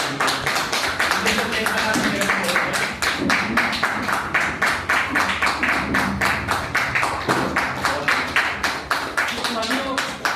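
An audience at a SafeShop business training session claps while members stand in their places, a sustained run of rapid, even hand claps from a crowd, with a voice talking over parts of it.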